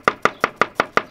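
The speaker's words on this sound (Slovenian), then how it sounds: "Zdaj bom pa narezal, pa se sekljal zelenjavo" Rapid, steady knife chopping of red and white cabbage and other vegetables for kebab, six sharp, evenly spaced strikes on a cutting board, close and loud with no talk.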